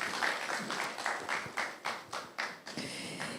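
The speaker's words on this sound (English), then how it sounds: "A round of applause for him, please." Applause from the audience at a smart farming technology dialogue event, a fairly faint patter of hands with rhythmic, pulsing claps lasting a few seconds, heard at a distance.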